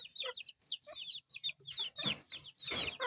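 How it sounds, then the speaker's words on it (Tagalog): A chicken from the Visayas clucks repeatedly in short, quick bursts, fairly close and clear, with no voices around it. "Manok na galing sa Bisaya."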